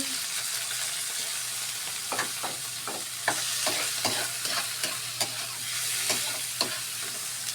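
Mushrooms fry in a pan under a steady, hissing sizzle while a utensil stirs them with repeated scraping knocks, close by, and no one talks.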